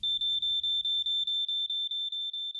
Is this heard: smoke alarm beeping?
yes